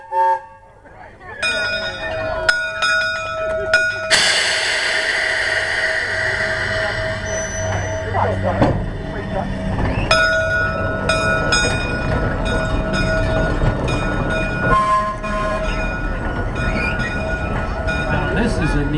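H&N number 1 electric locomotive rolling along in a trolley parade at a rail festival, with bell ringing, horn blasts and wheel rumble, loud and close, with a crowd chattering around it.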